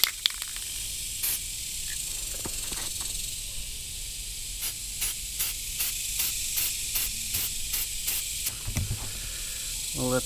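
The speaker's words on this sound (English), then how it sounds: "So just spray paint the belly right now." Short bursts of aerosol spray paint hiss repeatedly onto the belly of a handmade fishing lure, close and fairly loud, over a constant background hiss with a few faint taps between.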